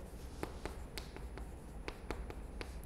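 Chalk or marker writing on a board during a Korean real estate civil law lecture, a faint series of short irregular taps and strokes, with no voice.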